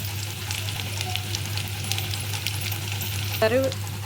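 Ginger-garlic paste and masala powder being stirred into a frying prawn biryani base: a steady close sizzle with scraping strokes of a spoon in the pot, then a brief metallic clink, and no talk.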